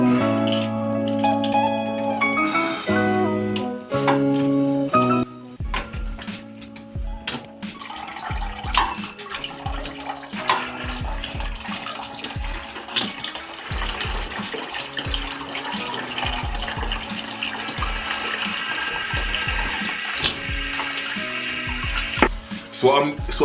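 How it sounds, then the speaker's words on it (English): Water running from an opened radiator valve through a 1.5-inch connector during a radiator installation, a steady rushing flow lasting throughout, with a voice talking over it. "if we just open it now, we should have the water coming out."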